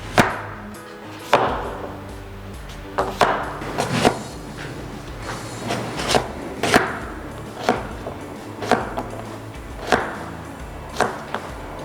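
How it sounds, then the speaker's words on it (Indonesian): A knife chops radish into cubes on a cutting board, giving about a dozen sharp, irregular taps spaced a second or so apart, close and clear with no talk. "Di sini aku potongnya kotak-kotak."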